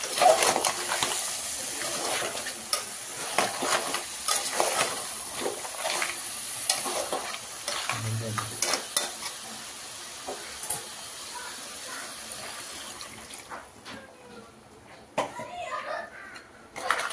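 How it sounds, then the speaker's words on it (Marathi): Crab curry stir-fried with masala in a pan, with bursts of stirring scrapes and a steady sizzle, while children's voices and talk drift in from the background. "थोडं परतलं ना की सगळ्या नांग्यांना खेकड्यांना मसाला लागून जातो."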